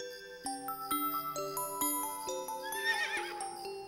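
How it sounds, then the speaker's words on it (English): A horse whinnies loudly in a long, wavering neigh, mixed with a bright clip-clop and tinkling jingle in a cartoon-like setting. "That's a horse."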